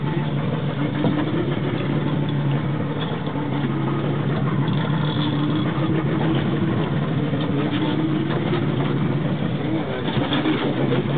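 A boat motor runs while a tuna is landed at sea, a steady mid-pitched drone that holds at constant loudness throughout.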